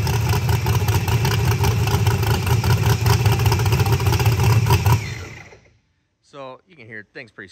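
A ProCharger-supercharged, methanol-fuelled sand car engine of just over 2,000 horsepower with Holley fuel injection, idling loud and close with a lumpy, rough rhythm for about five seconds before it shuts off, then someone speaks.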